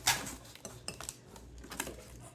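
Ceramic plates clinking and knocking together as they are handled, a sharp clack at the start followed by scattered lighter taps and scrapes, close and with no talking.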